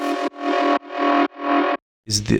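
A buzzy synthesized tone pulses in four sustained notes with abrupt cutoffs, followed by a short burst of speech.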